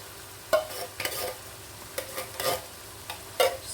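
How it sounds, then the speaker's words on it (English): Tinned tomatoes go into a pasta bake pan and get stirred, making a series of short wet scraping and sloshing strokes, close and fairly quiet, with no talking. "So I'm just adding our tomatoes."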